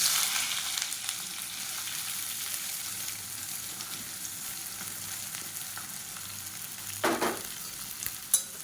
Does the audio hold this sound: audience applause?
no